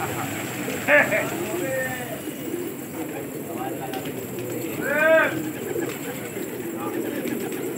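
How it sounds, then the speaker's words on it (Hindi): Gola pigeons coo near the listener in a loft: a couple of soft, rounded calls stand out, one early and one later, against a low background hum and faint bird sounds. "एक साइज के कबूतर आते हैं, बहुत ही प्यारे कबूतर।"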